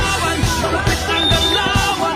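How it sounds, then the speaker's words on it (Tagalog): Spectators at a barangay basketball court game yell and whoop in a loud, close, continuous babble of overlapping voices, with bursts of shouting rising and falling. "Malakas ang hiyaw"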